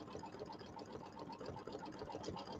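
A home embroidery machine stitches a Christmas tree and blue house quilt block, its needle running in a fast, even mechanical rhythm close by with no talking.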